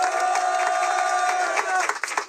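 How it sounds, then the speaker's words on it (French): A studio audience claps and cheers as 12-year-old Léa walks onstage with Bigflo & Oli, a dense continuous burst of applause that thins toward the end. "On va t'applaudir, ma Elle chérie."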